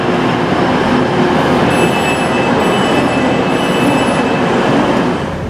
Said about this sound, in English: So we better get in the front part of the train.